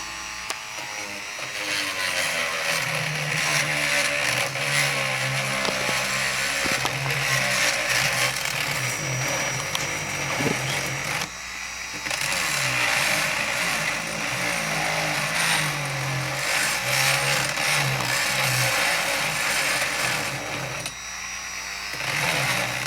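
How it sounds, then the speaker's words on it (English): A Dremel rotary tool grinds at Jeep Wrangler battery terminals, a steady high-pitched whine with a buzzing drone, running nearly nonstop for over twenty seconds with two brief dips in pitch and level. "I decided to let my apprentice use the Dremel tool and clean up the"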